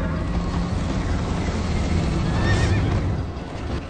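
Horse neighing in the video game Minecraft Story Mode, a whinny rising over a loud, dense bed of game music and galloping hooves during a chase.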